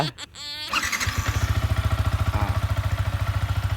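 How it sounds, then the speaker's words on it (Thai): A 2021 Yamaha R15 single-cylinder motorcycle is started with a brief starter whir, then settles into a loud, close, steady idle with an even thumping exhaust pulse. "เสียงเครื่องก็จะเป็นประมาณนี้นะครับ เพราะรถมันเป็นหนึ่งสูบนะครับผม"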